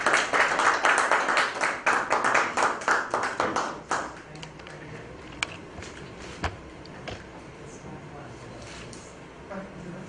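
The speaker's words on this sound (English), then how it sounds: "Let's give him a round of applause" An audience at an education conference claps in a dense burst of applause lasting several seconds, then it thins to a few scattered claps under the room's background murmur.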